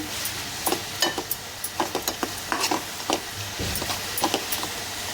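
Food is stirred and cooked in a pan over a steady, close sizzle, punctuated by repeated sharp scraping taps of the stirring utensil, with no speech.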